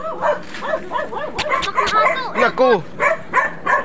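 Several dogs on a road bark, yip and whimper in quick excited bursts close by, loud and repeated, while people talk and exclaim over them.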